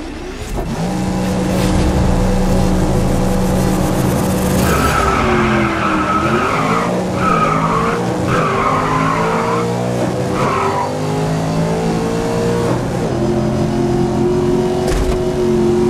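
Race cars roar off the start in GRID (2019) on PS4, with loud, steady engine drone and rising revs joined by squealing tyres and skids as the pack pulls away, all continuous and with no talk.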